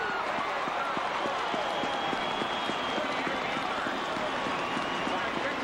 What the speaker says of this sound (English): Jay Taylor has got them standing and cheering here in Morgantown, West Virginia